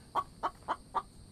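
Chicken in the video game The Infected, four evenly spaced clucks in quick succession, clear and moderately close.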